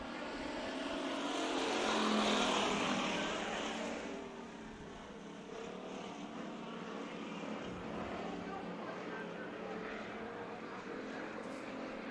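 Five American stock cars race at Bakersfield Speedway, a steady broad engine roar that swells near the start and settles into a continuous dense drone.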